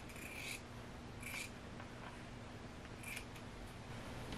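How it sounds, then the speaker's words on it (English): Sewing scissors trimming excess fabric from the corners of a border square for a tunic, giving three faint, crisp snips spaced apart over quiet room tone. "on the wrong side, we're gonna go to each of these corners and trim off this excess"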